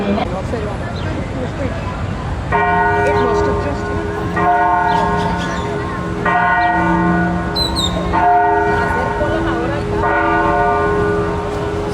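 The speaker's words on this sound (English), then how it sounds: "you can hear the bells chiming in the background for 11:30." Cathedral bells ring out in slow, repeated tolling strokes for 11:30, each tone hanging and overlapping, over a busy outdoor plaza background of traffic and distant voices in Mazatlán, Mexico.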